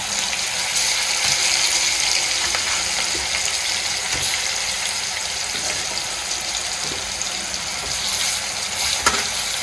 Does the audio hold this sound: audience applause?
no